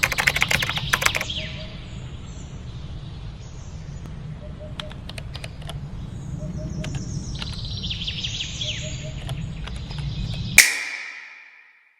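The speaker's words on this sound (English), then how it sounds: "I picked out 2 different kinds of typing, one harsher and quicker, and the other slower and more dramatic." Computer keyboard typing, a fast burst of harsh, quick keystrokes at the start, then sparse, slower, more dramatic key taps over a steady low hum, with soft chirps in the background.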